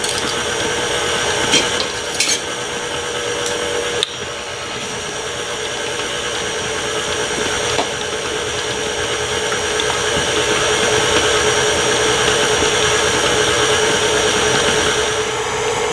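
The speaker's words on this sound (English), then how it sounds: "it's been mixing about 4 or 5 minutes" An electric mixer whirs with a steady, continuous drone as it beats bacon chocolate chip cookie dough, loud and close, with a few brief clacks near the start and no talking.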